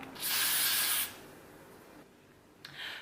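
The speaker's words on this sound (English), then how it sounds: "So now I'm gonna put a little bit more hairspray on." Hairspray hisses from a can onto a wig in a sharp, close burst of about a second. A shorter spritz follows near the end, with quiet between.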